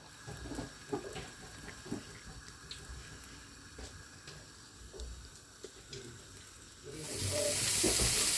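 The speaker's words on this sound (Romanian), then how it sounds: "Am pus și caizerul la prăjit." Pork crackling (caizer) fries in a pan, making a quiet, continuous sizzle with faint crackles and a few light knocks, swelling louder near the end.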